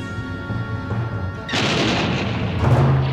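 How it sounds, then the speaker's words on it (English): Star Wars read-along laser blasts explode in a sudden loud burst of booming, crackling impacts that hits after a low hum and keeps rumbling, with a second flare near the end. "Suddenly, lasers were exploding around them."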